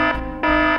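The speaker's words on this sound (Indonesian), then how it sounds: "Itu kan bunyi alarm CCTV." A CCTV alarm in the Sakura School Simulator game sounds as a loud, harsh, buzzing electronic tone that cuts out briefly and restarts in repeating bursts.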